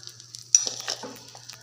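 Onion dosa batter spread on a hot pan, topped with onions, coriander and green chili, giving a faint, thin sizzle after a sharp clatter, with light scraping and a low steady hum underneath.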